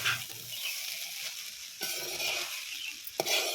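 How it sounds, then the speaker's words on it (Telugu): Egg fried rice with masala being stirred in a pan, a steady scraping and rustling under a constant sizzle, with louder spatula knocks against the pan at about two and three seconds. "మసాలా వేసుకుని అయితే తిప్పుకోవాలి ఫ్రెండ్స్."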